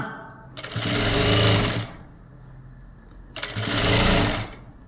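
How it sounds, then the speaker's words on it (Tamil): A sewing machine stitches along the neck edge of a lined blouse in two steady runs of about a second each, separated by a short pause, loud and close with no talk. "கரெக்டாக அந்த எஜ்ஜிலேயே தைச்சிட்டு வர்றேன்"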